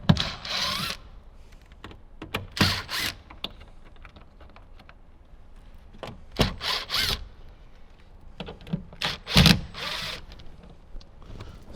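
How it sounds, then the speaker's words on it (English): Four screws come out of a door speaker on a 2024 or newer Toyota Tacoma, with short bursts from a power driver separated by quieter clicks and handling noises, close and intermittent. "We'll go ahead and remove the 4 screws from the speaker."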